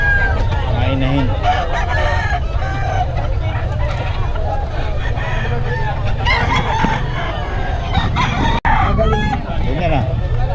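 A dense flock of about a thousand hens clucking and crowing, loud and continuous, with a murmur of voices mixed in at a market in Bocaue.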